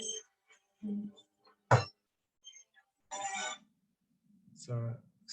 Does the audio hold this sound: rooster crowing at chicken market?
no